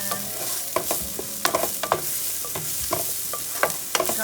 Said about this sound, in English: This will be about 10 minutes of cooking with onions and